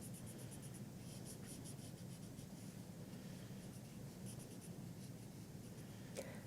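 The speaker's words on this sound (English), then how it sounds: "We're going to do very careful coloring with our markers." A marker fills in a shape on paper with steady, soft scratchy strokes in a continuous rhythm, close to the microphone and quiet.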